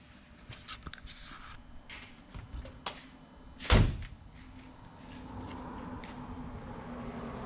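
A car door on a Volkswagen Type 34 Ghia that has been sitting since 1983 and needs adjustment is worked at the latch, giving one loud thunk near the middle amid scattered handling knocks and rustles in a quiet shop.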